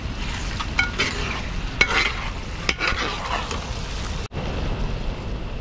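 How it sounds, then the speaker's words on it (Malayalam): A spoon stirs beef heart curry in a pot over a village cooking fire, making a continuous close scraping, bubbling sizzle with several sharper clinks and scrapes, then a brief dropout near the end. "ഇനി ഒന്ന് ഇളക്കിയിട്ട് നമുക്ക് ഇത് മൂടി വെച്ച് വേവിക്കാം."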